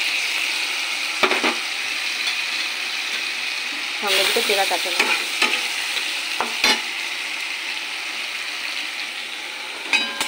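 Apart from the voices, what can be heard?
frying taro stolons with mustard-poppy paste and chilies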